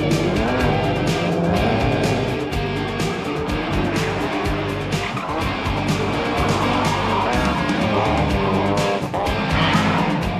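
BMW rallycross cars launch from the start line in a 1998 French rallycross championship race, engines roaring loudly and continuously with revving and gear changes, close and dense throughout.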